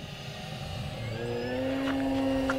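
An E-Flite Carbon-Z Cub SS RC airplane with a 2.1 m wingspan drones overhead, its electric motor whine rising steadily in pitch and loudness as the throttle comes up.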